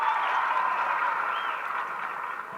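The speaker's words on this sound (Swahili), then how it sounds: "Tuwape makofi jamani" Applause for the Olympians from Uganda at a funeral ceremony for Agnes Tirop: a steady, dense crowd clapping throughout, gradually thinning slightly toward the end.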